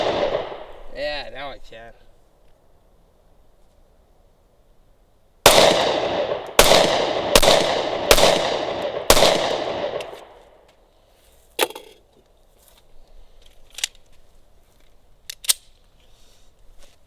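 Five sharp, loud shots from a Smith & Wesson Shield .45 ACP pistol fire outdoors in a quick, even string, followed by scattered fainter pops. A voice speaks briefly before the shooting.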